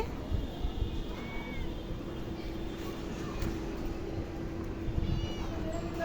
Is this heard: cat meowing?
yes